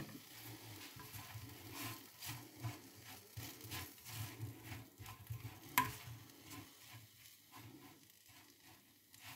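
Soft scraping and patter of a spoon stirring a breadcrumb-topped gratin in a dish, irregular repeated strokes close to the microphone, quiet and unaccompanied by speech.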